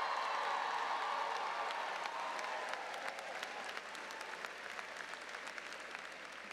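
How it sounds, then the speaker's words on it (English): A large crowd applauds steadily at a Cambridge College commencement ceremony in Boston, producing a dense, continuous wash of clapping that stays strong and even throughout. "Give yourselves a big round of applause."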